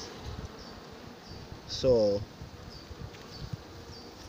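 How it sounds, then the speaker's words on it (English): Honey bees hum around an open hive during an inspection, a steady low outdoor drone, with one brief spoken word partway through. "There's a lot of bees"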